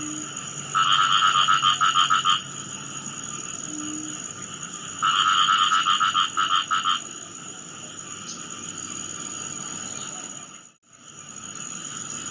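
Frogs croak near a campus project base, in two rapid pulsing bursts of repeated calls over a steady insect-like hum, fairly loud and close, with no talking.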